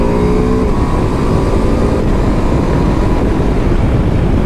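A BMW F 450 GS motorcycle engine revving, a loud close mechanical roar with a rising pitch at first that then holds steady and strong, alone without any voices.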